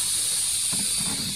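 A cappuccino machine cooling down releases a steady, bright hiss of steam, with a faint low rumble and mechanical rattle underneath.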